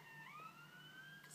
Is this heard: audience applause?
no